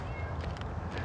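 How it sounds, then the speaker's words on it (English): A single cat meows faintly in the distance, brief and thin against quiet outdoor background noise on a city street in Little Rock, Arkansas. "I hear a cat"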